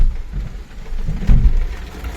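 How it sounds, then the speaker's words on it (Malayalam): A sudden heavy downpour with thunder in Kasaragod, Kerala, heard near the NH66 highway. Rain patters in a low, uneven wash, and a deep rumble swells around the middle of the clip before it eases off. No one speaks. "നല്ല ഇടിവെട്ട് മഴ പെയ്തു"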